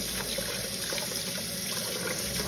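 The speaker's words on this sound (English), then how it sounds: "I'm going to rinse this meat." Turkey wings are rinsed under running kitchen water, a steady close splashing trickle that stays even and unbroken throughout with no voices.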